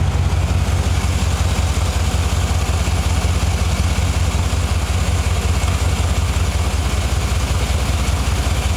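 A 2013 GMC 2500HD pickup with about 180k miles and an exhaust leak idles up close, a loud steady low rumble with a fast even pulsing throb that holds unbroken throughout.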